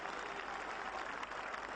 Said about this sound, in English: getting the cheer he deserves